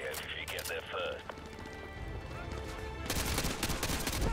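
Gunfire in the Modern Warfare 2 Campaign Remastered video game, a busy mix of shots over game noise, with a denser, louder burst of rapid fire in the last second or so.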